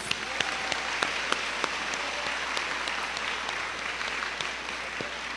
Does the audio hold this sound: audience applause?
yes